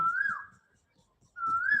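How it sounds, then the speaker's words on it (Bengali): Two rising whistled calls of an Asian koel, one at the start and one at the end, with a quiet gap between them. The calls ring out clearly with no other sounds. "অসময় কোকিল ডাকছে"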